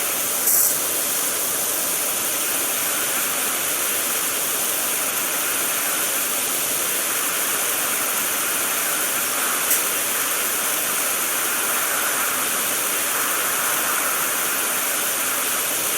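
Steady, loud hiss of a pressure washer spraying water in the video game PowerWash Simulator, continuous and unbroken throughout with no talk.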